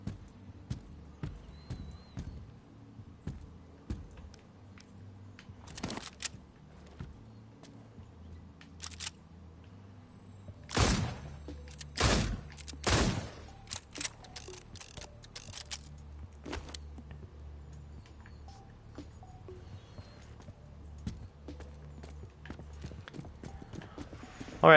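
A horse's hooves clip-clop in the Dreams video game, with a steady, heavy plodding rhythm of fairly soft hoofbeats throughout and a few sharper, louder knocks near the middle.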